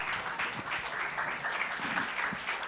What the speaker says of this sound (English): Please give him a big round of applause, everybody.